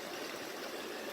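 Creek water on the Tranquille River runs steadily in a continuous close, soft rushing wash with no voices.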